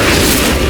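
An Incendio fire spell blast in Hogwarts Legacy, a loud, dense roaring burst of flame that fills the short moment with heavy low rumble.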